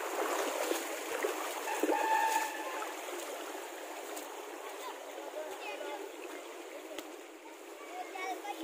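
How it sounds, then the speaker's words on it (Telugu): A forest stream fed by a waterfall on a ghat road rushes and splashes steadily nearby, with a voice briefly heard over the continuous flow. "వాటర్ చూడండి ఎలా వస్తున్నాయో"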